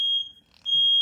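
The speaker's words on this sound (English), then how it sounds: "that was the smoke alarm." An indoor smoke alarm shrieks with a loud, piercing high-pitched tone, cuts out briefly, then resumes just as loudly.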